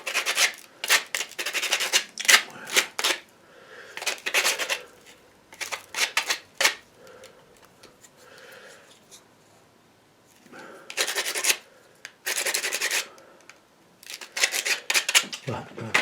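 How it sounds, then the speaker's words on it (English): Sandpaper rubs down the sharp end of a palette knife in short bursts of close, scratchy back-and-forth strokes separated by quieter pauses. "I'm just going to take a bit of sandpaper and just rub it down a bit."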